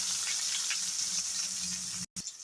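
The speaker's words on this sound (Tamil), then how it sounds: "இது நம்ம போட்டது பொரிஞ்சோன்னே வெங்காயம் போட்டுக்கிறேன்." Onion is dropped into hot oil with cumin seeds for a Tamil kulambu, giving a loud, steady close-up sizzle that cuts out abruptly near the end and then resumes.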